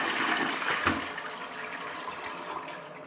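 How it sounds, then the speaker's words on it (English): A hotel toilet flushes with a loud, close rush of water that swirls and drains steadily for a few seconds in a small bathroom. "Let's give it a flush."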